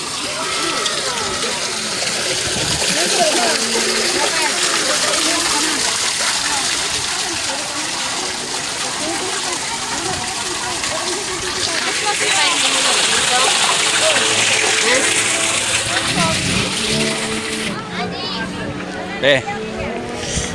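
Water splashes and sloshes steadily over a busy backdrop of overlapping voices at a church shrine during a Holy Week church visit, staying fairly loud throughout before thinning near the end.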